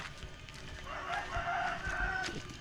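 A rooster crows at moderate distance in a Philippine village with many chickens, one drawn-out call rising over a steady background hum and scattered outdoor noises.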